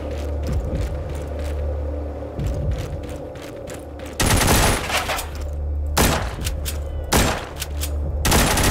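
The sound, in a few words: machine gun firing in video game The Walking Zombies 2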